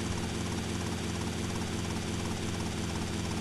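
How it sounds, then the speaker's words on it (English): Helicopter flying in GTA Vice City on PS2, a steady, dense rotor-and-engine drone that stays loud and unbroken throughout, with no talking over it. "So we can just land the helicopter"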